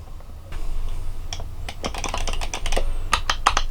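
Clicky arcade stick buttons for a Super Nintendo are pressed in quick irregular bursts, sharp close clicks tapping over a quiet background hum.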